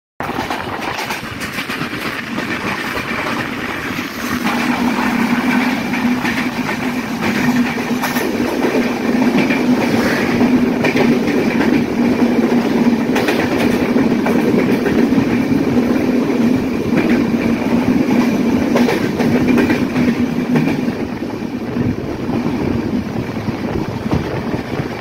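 The Panchagarh Express rolls through Sirajganj district near Jamtoil station, its wheels keeping a loud, steady clickety-clack over a continuous rumble heard from on board.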